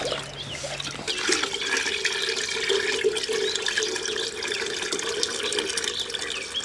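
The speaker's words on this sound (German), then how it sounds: "Hier habe ich fast voll mit Wasser und hier kommt jetzt ein Schluck von der Jauche drauf." Liquid fertilizer is poured into a garden watering can nearly full of water, giving a steady gurgling, splashing stream close by that starts abruptly and runs continuously.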